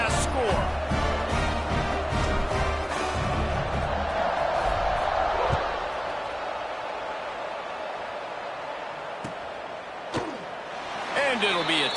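A football stadium crowd buzzes loudly after a touchdown, a steady roar of many voices filling the space, with sharper thumps and claps early on and a play-by-play announcer talking over it.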